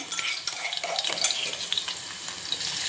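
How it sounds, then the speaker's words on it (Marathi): Garlic fries in hot oil in a kadai, giving a soft, continuous sizzle with light crackles and stirring scrapes close by. The sound stays fairly quiet and no one speaks. "आपलं तेल गरम झालं की नंतर त्यामध्ये लसूण घालायचा"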